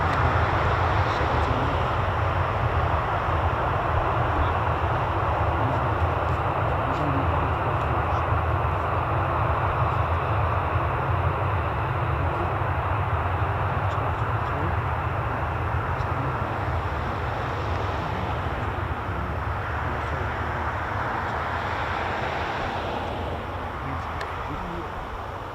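A US Air Force KC-135 tanker of the 100th Air Refueling Wing at an RAF base, a broad sustained jet roar heard from a distance that slowly fades over about twenty-five seconds, with no talk over it.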